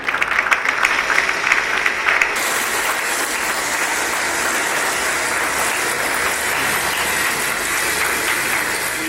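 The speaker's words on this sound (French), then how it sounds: "Est-ce qu'on peut l'encourager par un applaudissement?" At a corporate 20th-anniversary celebration for an oil company, the crowd applauds the technical director with loud, sustained clapping that begins with sharper individual claps and settles into a dense, steady roar.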